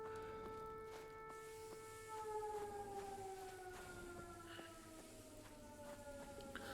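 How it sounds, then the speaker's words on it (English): A civil-defense-style siren wails in the game Fallout 4 Nuclear Winter, slowly falling in pitch, faint and distant over a low background hum, with soft clicks scattered across it. "If there goes the siren, I can actually hear it now proper."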